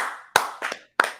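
Three sharp hand claps, loud and close, land in quick succession in a studio setting with no talk over them.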